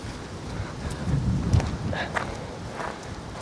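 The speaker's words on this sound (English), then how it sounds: "headwind like crazy at the moment" Strong headwind buffeting the microphone on a hilly disc golf course in Clyde, North Carolina, with rough rumbling gusts and flutter throughout.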